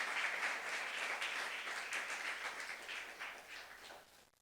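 A church youth service congregation claps together after a Korean sermon, a steady wash of many hands at moderate volume that gradually thins and fades out.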